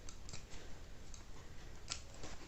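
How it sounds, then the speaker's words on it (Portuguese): Scissors snip away excess thread from a freshly sewn large box-style toiletry bag: a quick series of crisp, close clicks spaced irregularly, with one sharper cut standing out near the end. "vamos cortar esse excesso de fio aqui"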